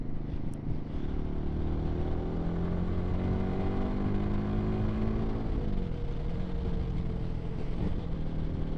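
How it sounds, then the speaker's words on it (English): A Kawasaki Versys-X 300 motorcycle accelerates in 4th gear up to 60, its engine note rising steadily under constant wind roar, heard from the rider's position with no speech. "I've just given it a little squirt of acceleration in 4th gear up to 60."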